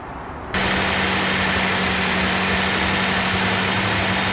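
A car engine starts up abruptly and then idles steadily at 2,000 RPM at operating temperature, a close, even, humming drone.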